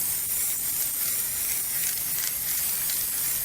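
Montana Gold spray paint in Shock Blue, a light blue, hisses steadily from an aerosol can, one continuous close spray with no pauses.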